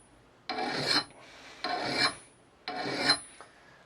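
A file sharpening a splitting axe: three rasping strokes, each about half a second long with short pauses between them, close and clear with no talk.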